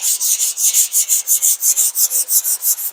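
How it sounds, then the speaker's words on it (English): Rapid, rhythmic scratching of sandpaper rubbed back and forth by hand in a cross pattern over 2K primer, about five strokes per second, close and even. "I like to do cross sanding"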